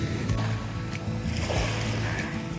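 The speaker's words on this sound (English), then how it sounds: "That sound right there, that water is worth it all." Shallow beach water laps and sloshes continuously close by, small waves washing in over a rough shoreline with a constant rushing texture.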